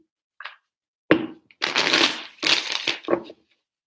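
A deck of tarot cards is riffled and shuffled up close in a few quick bursts: a light flick and a snap, then two longer rustling shuffles and a short final riffle, with silence in between.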